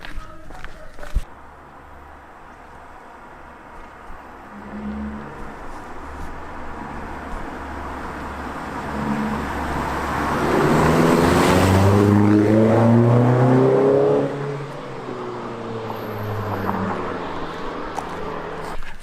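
A Vauxhall Corsa 1.4 Black Edition fitted with a Cobra exhaust drives past outdoors, its engine note rising from distant to a loud, close pass around the middle before fading away, with quiet ambient noise before and after.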